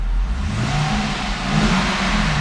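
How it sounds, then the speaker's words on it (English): A 2012 Cadillac CTS-V Coupe engine runs steadily and climbs in pitch as it is revved, a continuous low mechanical drone close by with no voices. "I'm gonna rev the engine."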